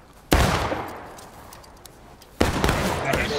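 Gunfire in the video game War of Rights, two loud massed musket volleys a couple of seconds apart, each a crackling burst that rolls away into echo, with voices underneath.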